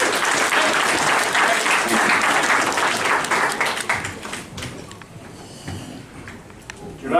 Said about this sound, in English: Give him a round of applause, Javante Davis.